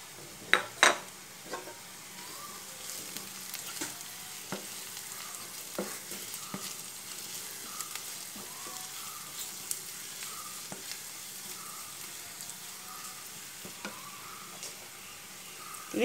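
Egg roast masala sizzles quietly in a pan after coriander powder goes in, a soft steady frying hiss broken by occasional clinks and scrapes of a spoon stirring, with no talking.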